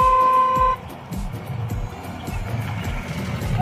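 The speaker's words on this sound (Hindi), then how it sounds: "ये भाया एक और गाड़ी आ गई देखो भाया हॉर्न बजा के जा रहा है भाया।" A car horn honks with a steady sustained tone as another vehicle arrives at a hill wedding in the Pahadi region, sounding loud and close before cutting off abruptly into busy low rumbling ambient noise.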